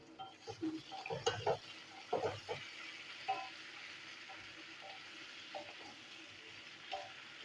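Flat beans and potatoes fry in a pan as two slit green chillies go in, giving a soft, low sizzle under scattered stirring clinks and scrapes near the start, then settling into a faint steady hiss.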